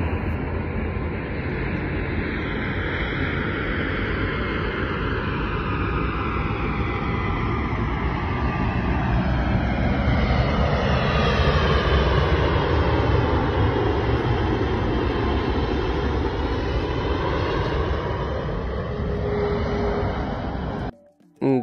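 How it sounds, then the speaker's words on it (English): A jet airplane roars overhead, its engine whine sweeping down in pitch as it passes, loud and sustained before cutting off abruptly. "This amazing plane is flying around three other planes."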